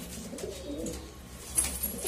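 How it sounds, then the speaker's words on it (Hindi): Pigeons coo softly nearby, low throaty burbling calls overlapping, with a few brighter chirps toward the end. "ये देखो काफी बढ़िया बढ़िया कबूतर हैं।"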